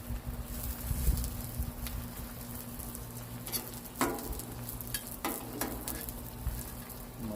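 Flour tortillas, fajita size, frying in olive oil in a pan: a steady soft patter and light sizzle with a few sharper crackles and pops, close and fairly quiet, no voices.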